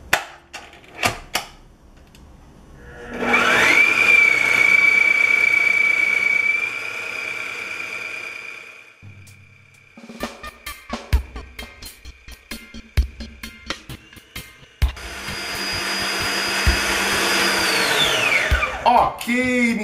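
An electric mixer beats peanut cake batter with ground peanuts in a bowl, whining steadily in two long bursts. Scattered clinks and knocks of the bowl and utensils fill the pause between them.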